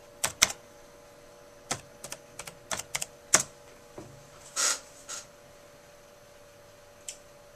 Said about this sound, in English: Let me set this down for a second and type the password in